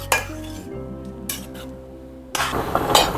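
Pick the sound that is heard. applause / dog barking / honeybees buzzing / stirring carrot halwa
stirring carrot halwa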